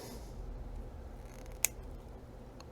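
A single short, crisp snip of scissors trimming the bottom of a model train tree for HO scale, close and isolated against a quiet background.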